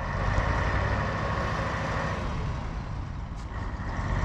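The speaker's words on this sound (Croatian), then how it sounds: "prolazi kamion pun nekog betona" A truck loaded with concrete rumbles past near a lake, a broad low engine drone that holds steady and fairly close for several seconds, with no talking.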